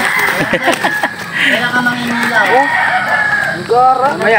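Two red gamecocks, around six to seven months old, crow and cluck during sparring, with several rising and falling calls in quick succession, close and fairly loud, while people talk nearby.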